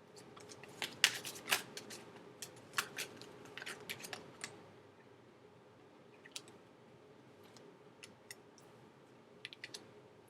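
Tarot cards being shuffled in quick riffling bursts, close and fairly quiet, followed by a few scattered soft clicks and taps.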